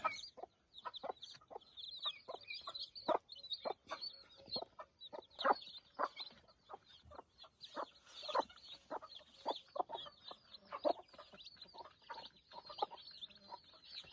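Native chickens cluck repeatedly in short, uneven bursts at a moderate distance on a farm, with soft higher peeps of newly hatched chicks scattered throughout and no talking.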